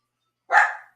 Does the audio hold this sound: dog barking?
yes